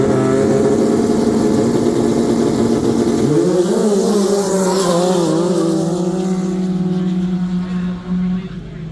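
A Hypersport snowmobile sled with an Ultimax belt, staged at a drag lane at Haydays in Minnesota, revs its engine loudly and continuously, the pitch climbing and wavering as it winds up, close by with crowd noise underneath.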